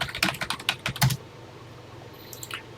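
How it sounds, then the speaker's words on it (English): A brief burst of quick, close keyboard clicks tapping away, then the typing stops and only faint room hiss remains. "Let's get typing."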